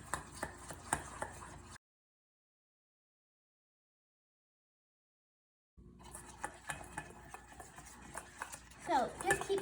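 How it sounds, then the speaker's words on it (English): Powdered sugar icing being stirred with added milk for a coffee cake, a utensil scraping and clinking against the bowl in steady close strokes, with a silent gap in the middle and busier stirring toward the end. "So just keep mixing this until it's smooth enough for you."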